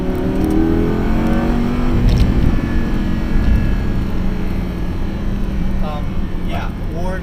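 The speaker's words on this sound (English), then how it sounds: "you hear my rev matching on the downshifts" Close by, a car engine revs as the driver rev matches on downshifts during a drive. It gives a steady, loud drone with rising and falling pitch, and voices talk over it.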